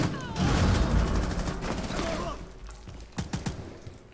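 Shotgun fire in the video game Rainbow Six Siege, with a heavy blast and rapid burst of shots early on, then several sharp separate cracks toward the end, all under a person talking.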